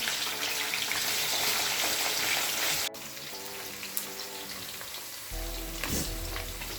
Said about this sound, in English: And on this burner, I'm going to fry my gizzard.